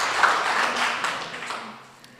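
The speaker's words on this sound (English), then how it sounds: "Give him a clap." Audience applause at a 50th anniversary celebration of the Olmsted Society, a moderate spread of hand claps from a room of people that fades away over a couple of seconds.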